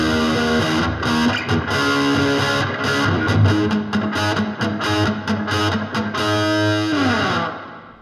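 An electric guitar, a Kramer Baretta Special with an EVH Frankenstein pickup, plays through an amplifier with distortion and reverb, strummed chords and single notes ringing out before fading at the end.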